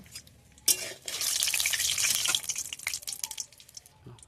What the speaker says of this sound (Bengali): চিনিটা আমি লাল করে ভেজে নেব